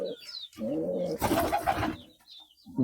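Pigeons at a water bowl give low, throaty cooing calls up close, a few rolling coos separated by short pauses, with soft rustling and a louder burst of wing or body movement in the middle.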